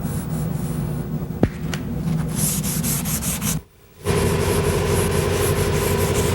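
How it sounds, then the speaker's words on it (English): Sandpaper rubs steadily back and forth over broken car body paint, feathering its edge smooth, with one sharp tap and a brief pause before the scraping resumes, close and alone. "we're starting to get this broken paint feathered out"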